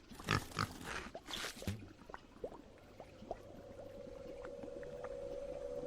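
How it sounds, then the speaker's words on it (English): A flying pig-like creature in the Inner World 2 video game gives a run of grunting, oinking calls, loud at first and then softer and scattered, over a low steady tone. "Now come along, little pig fly."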